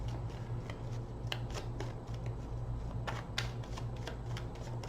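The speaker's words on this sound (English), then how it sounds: "3 more shuffles" Tarot cards being shuffled close up: a steady run of soft riffling and papery snaps with a few sharper card slaps, heard alone over a low constant hum.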